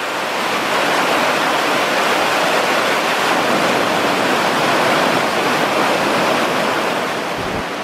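A river on the Pioneer Trail to Spaulding Lake in California rushes loudly and continuously, a dense, unbroken roar of water close by with no other sounds standing out.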